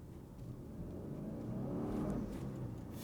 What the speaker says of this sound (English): You put that pedal to the floor and it just goes